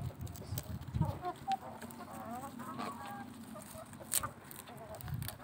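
Farmyard hens give scattered, close clucks and short squawks in a brief, lively burst, with no voices.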